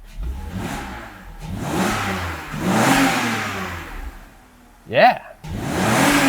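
A BMW car engine revs in several rising surges between idle dips, loud and close, with a sharp short blip near the end and a brief voice over it.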